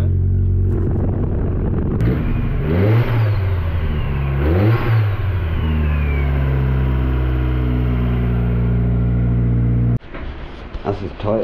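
An Austin Ten Special's engine is blipped and revved twice in quick swells, then held at a steady, even idle-to-mid rumble, close and fairly loud, before cutting off; a voice is heard briefly near the end.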